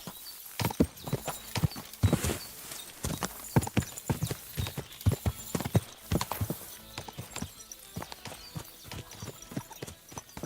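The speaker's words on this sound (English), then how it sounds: "Watch out with that horse!" Horse hooves clip-clop in a medieval video game, Kingdom Come Deliverance 2, an uneven run of sharp, close hoof strikes throughout, with a snort or whinny near the start.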